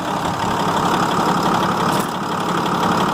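A 6.7 Cummins diesel in a Ford F750 runs steadily at idle, a dense, continuous mechanical rumble with a faint knocking texture, close and loud throughout with no voices.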